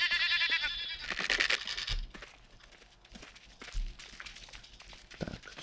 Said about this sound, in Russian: О, мы в козочку будем стрелять.